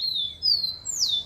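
A bird chirps three times in a row, clear high whistled notes with gliding pitch, close and distinct over a quiet outdoor background.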